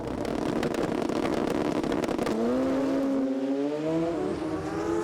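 Super Street motorcycles roar loudly down a drag strip at the FIM Euro Finals, their engines howling continuously and climbing in pitch as they accelerate side by side.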